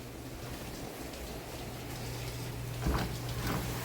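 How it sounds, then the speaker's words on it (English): Steady rain falls outside a patio villa home in The Villages, Florida, an even wash of hiss that swells slightly toward the end, with a brief louder patter near the close and no speech. "It is raining outside"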